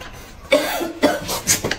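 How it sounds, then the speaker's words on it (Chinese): A woman coughs in three short, separate bursts about half a second apart, close and fairly loud in a quiet home setting at mealtime. "妈，你又咳嗽了。"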